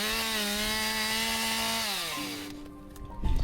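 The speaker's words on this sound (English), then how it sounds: "fire up the chainsaw and turn these logs into firewood" A chainsaw cuts canal-side logs into firewood, its loud, close whine dropping in pitch as the blade bites into the wood before the engine cuts off near the end.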